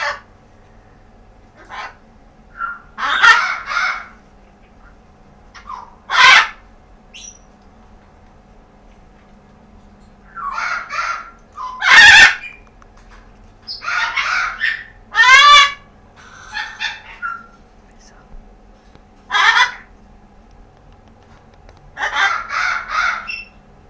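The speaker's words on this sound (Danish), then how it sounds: "som man kan høre, så er der jo gang i mange fugle" Grey parrots and many other birds call at a parrot boarding home in the morning, with loud bursts of squawks and whistles coming in irregular clusters, some close and sharp, over a quiet room.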